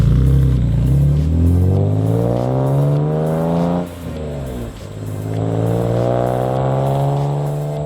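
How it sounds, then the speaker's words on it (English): A BMW E46 M3 with a Supersprint exhaust revs hard and continuously, its tone rising and falling through repeated climbs with a brief dip near the middle, loud and close with no talking. "It's not all about the way exhaust looks, it's about the way it performs and the way it sounds that gets you going."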